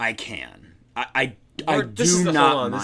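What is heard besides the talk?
None of the usual background noises is heard.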